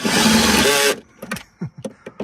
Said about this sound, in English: I'm just going to use this just to nip them up. A drill.